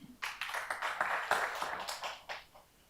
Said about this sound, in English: Let's clap for him.